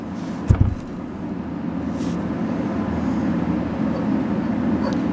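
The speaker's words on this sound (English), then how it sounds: "Definitely a large motor." An antique Allis-Chalmers 10 HP electric motor with a repaired shaft runs with a steady, low, even hum. A brief knock sounds near the start, and the drone continues unbroken and moderately quiet.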